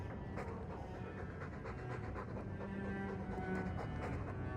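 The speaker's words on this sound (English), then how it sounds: "All that noisy dog breath, day in, day out." Steady, noisy panting of a dog in the video game Dragon Age 2, continuous breathing over a constant game ambience.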